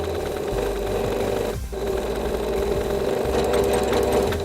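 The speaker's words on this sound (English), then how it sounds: "Using a zigzag stitch, you want to go across the hem of your fabric." A sewing machine running a zigzag stitch across a fabric hem hums with a steady, fast mechanical whir at close range, pausing very briefly once before carrying on evenly.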